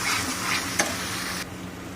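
A ground paste of fennel, cashew and poppy seeds is sautéed in a pan for curd-style catla fish, producing a steady close sizzle with light stirring and one brief click, alone without voices.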